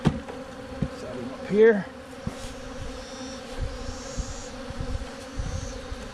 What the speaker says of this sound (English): Generally I have really gentle bees, but right now I have really mad bees.